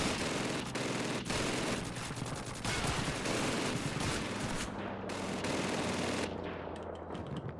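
Sustained machine gun fire from a mounted gun in Call of Duty 2, loud dense bursts rattling continuously with scattered louder shots, heavy and close throughout with no talk over it.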